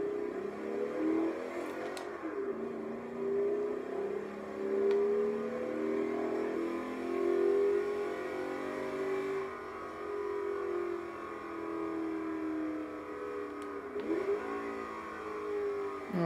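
Ford Bronco engine in the video game Forza 3, driving in snow at Blizzard Mountain, a steady mid-pitched drone that rises and falls with gear shifts, loud and continuous throughout.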